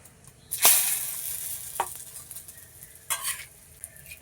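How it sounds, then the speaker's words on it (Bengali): Bay leaves and cumin hit hot oil in a pan for a village-style rui fish curry, giving a sharp hiss that flares loud then settles into a quieter crackle, with a couple more brief sizzling bursts and faint stirring. "এবার তেজপাতা দিয়ে দেবো।"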